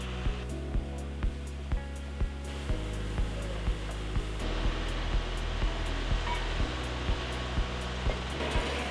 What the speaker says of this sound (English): The next machine sweeps away ballast rocks that may have moved